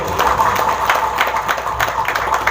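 An audience claps during a rousing speech at a Central Java gathering, producing a steady patter of hand claps with scattered louder bursts throughout.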